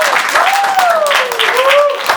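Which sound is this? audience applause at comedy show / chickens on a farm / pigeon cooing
audience applause at comedy show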